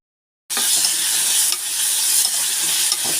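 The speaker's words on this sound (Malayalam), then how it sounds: "വെളുത്തുള്ളി ടൊമാറ്റോ ഞാൻ ഇട്ടിട്ടുണ്ട് കേട്ടോ. നമുക്ക് നല്ലപോലെ ഇളക്കി." Garlic and tomato stirred in a hot pan for a Kerala-style healthy breakfast, a loud steady sizzle with scraping stir strokes that starts abruptly after a brief silence, close and alone.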